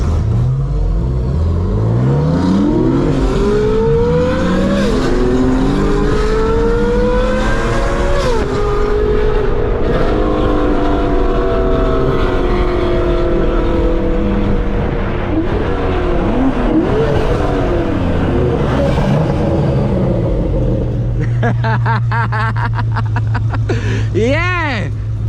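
A BMW F80 M3 with a manual gearbox pulls hard on a spirited night drive, its engine note rising loudly through the gears with sweeping pitch climbs and drops, heard from inside the car.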